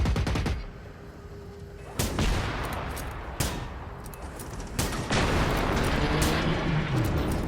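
Gunfire in the Generation Zero video game: several loud sharp shots spaced a second or more apart, with rattling bursts and a steady background of game ambience, and no voices.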